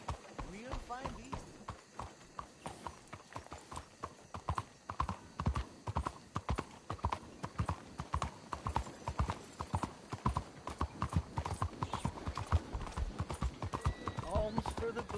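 Horse hooves clip-clop in a steady, brisk rhythm on a hard road in the video game Red Dead Redemption 2, continuous and fairly close, under occasional talk.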